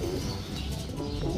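Racing pigeons coo softly in low, throaty murmurs, somewhat faint and close together, with no voices.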